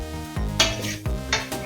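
Tempering spices crackle in hot oil in a pan on a nonstick stove, with two sharp bursts of sizzling, each followed by a hissing tail, plus light scraping and clinking of a spoon against the pan.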